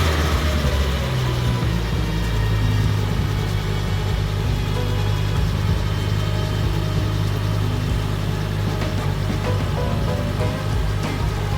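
A Ford Focus ST225 MK2 engine runs at a steady idle just after being started following a service, a continuous low rumble heard up close with no talking.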